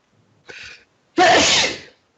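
A short intake breath followed by one loud, sharp sneeze up close, then quiet.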